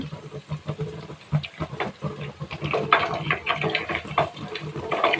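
Homemade ghee heating in a pan bubbles with a busy, watery, irregular gurgle of popping bubbles, heard at close range and moderately loud, with no talking.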